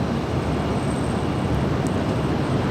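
Aeromexico airliner taxiing at LAX, a steady broadband engine roar with a thin high whine, continuous and fairly loud with no speech.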